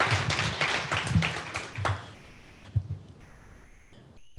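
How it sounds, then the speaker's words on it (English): An audience claps for members of the armed forces, a loud burst of applause that thins out and fades over a few seconds, with a few last claps trailing off. "we give them a quick round of applause for the sacrifice they make for us and our country"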